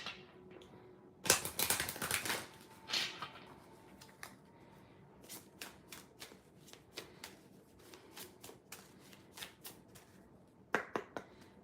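Angel oracle cards are shuffled in a quiet room, with crisp riffling bursts and soft slaps near the start, then a steady run of light flicks and taps, and another short riffle at the end.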